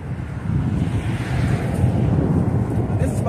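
Strong wind blows across an outdoor camp in El Paso, Texas, a steady low rumbling buffet against the microphone with no pauses, loud and close.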